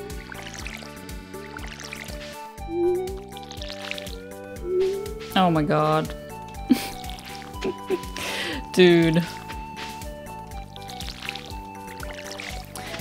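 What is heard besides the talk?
watering crops in Stardew Valley video game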